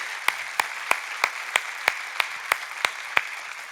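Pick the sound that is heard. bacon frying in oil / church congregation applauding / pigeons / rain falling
church congregation applauding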